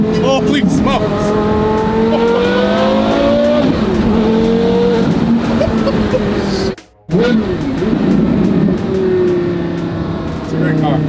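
A Porsche Carrera GT manual hypercar drives hard, its engine note rising and falling through loud, close revs with a brief gap mid-run, while people talk and exclaim over it.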